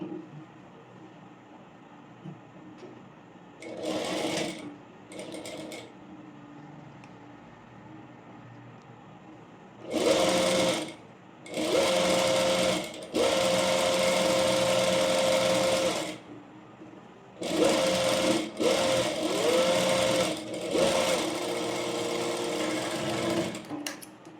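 A sewing machine stitches an A-line frock in several separate bursts, each a loud, fast mechanical whirr, broken by quiet pauses between runs.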